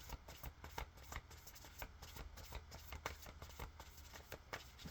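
Tarot cards are shuffled with a rapid, rhythmic riffling patter, close and fairly quiet, with no talking.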